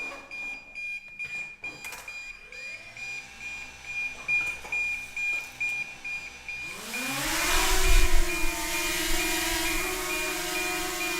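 A DJI drone gives a steady, thin electronic beep while connected, then its motors spin up into a rising, loud whirring whine as it launches, close by.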